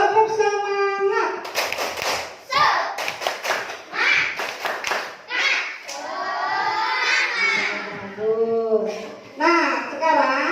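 A classroom of children performs a rhythmic spirit clap, bursts of sharp group clapping in patterned beats alternating with loud chanted voices, close and energetic throughout.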